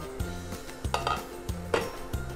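Ingredients go into a hotpot on a Coex electric multi-cooker, with repeated close clinks and knocks of utensils against the pot in an uneven rhythm.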